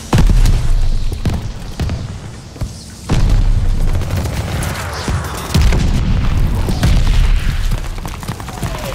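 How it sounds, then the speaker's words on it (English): A grenade goes off in Call of Duty: Vanguard amid a war battlefield, loud booming blasts with heavy low rumble repeating over a constant din of gunfire and distant shelling, no talk. "Grenade!"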